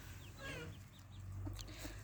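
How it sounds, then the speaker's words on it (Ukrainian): Small chicks run about, clucking softly and intermittently close by, with a few higher chirps mixed in over a low steady background rumble. "Ось дивіться, курчатка бігають."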